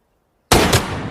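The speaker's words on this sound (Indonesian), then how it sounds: "Tiba-tiba Motoki ditembak oleh Toshio yang membuntuti Oba" A single sharp gunshot in a war scene, a sudden loud crack after silence with a short decaying tail.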